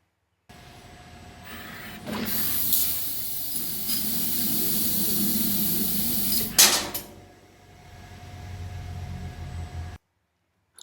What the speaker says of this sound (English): we're going to cut to the machine and see the 10 gauge pierce